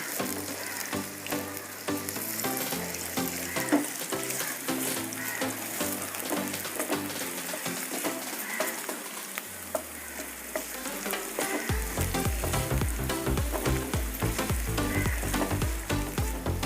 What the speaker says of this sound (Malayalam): അപ്പോൾ നമ്മുടെ ഓയിൽ ചൂടായ ടൈമിൽ നമ്മൾ ചെറുതായിട്ട് അരിഞ്ഞു വെച്ച നമ്മുടെ ഉരുളക്കിഴങ്ങ് നമ്മൾ ചേർത്ത് കൊടുക്കണം.